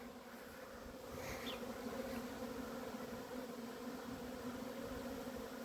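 Honeybees swarm around their hive on a late-February cleansing flight, a dense, steady buzzing drone that stays close and even throughout, with no talking.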